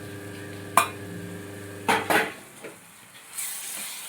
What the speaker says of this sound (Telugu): నేనైతే వీటిని అయితే ఉల్లిపాయల్లోకి వేసేస్తున్నానండి